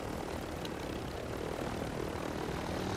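A helicopter in a video game, a steady droning engine and rotor hum held at a constant level, moderately loud with no talk over it.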